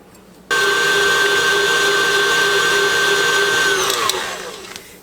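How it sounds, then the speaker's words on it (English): A mixer fitted with a wire whisk creams butter with granulated sugar: a sudden loud, steady motor whine kicks on, holds for several seconds, then winds down near the end. "I'm using the wire whisk that normally you would do egg whites with"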